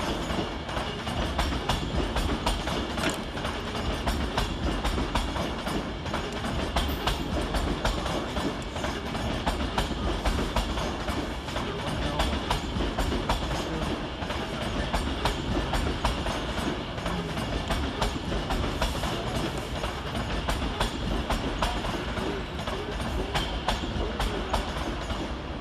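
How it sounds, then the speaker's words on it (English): An Avanti West Coast class 390 train pulls into Carlisle station, a continuous rumbling rush of wheels and carriages with rhythmic clicking over rail joints, steady and fairly close throughout. "Arriving next into the station is 390-131, working the 1301 Avanti West Coast service from London Euston through to Edinburgh"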